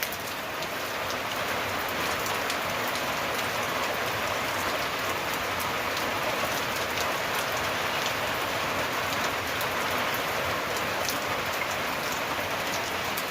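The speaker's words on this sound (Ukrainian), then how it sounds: "Іде дощ, будемо просити, щоб ще переставити дощ." Steady rain falls on a village, a dense, even patter on surfaces that continues unbroken at moderate loudness with no voices.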